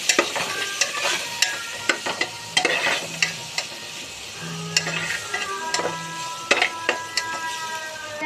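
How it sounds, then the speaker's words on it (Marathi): Spices frying with cluster beans (guar) in a pan, soft crackling sizzle broken by repeated stirring scrapes and clinks of a spoon against the pan, close by with no talk. "आता थोडा मसाला घालून घेतला, थोडं फ्राय करायचं"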